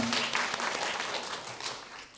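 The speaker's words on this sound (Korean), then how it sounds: "박수로 환영해 주십시오." An audience applauds to welcome a presenter at a Buddhist ritual culture academic conference in a lecture hall, a dense steady wash of clapping that fades slightly toward the end.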